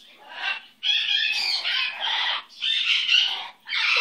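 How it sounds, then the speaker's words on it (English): A pet rooster gives long, loud, raspy crows and calls in several sustained bursts, close to the listener, with no other sound in between. "Pretty little bird."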